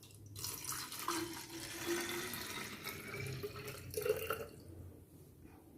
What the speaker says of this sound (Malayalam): എന്നിട്ട് നമുക്ക് കുറച്ച് വെള്ളം ഒഴിച്ചു കൊടുക്കാം.